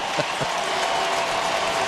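A baseball stadium crowd at a Cleveland at Oakland game rises in a standing ovation, a dense, loud wash of cheering and clapping that holds steady throughout.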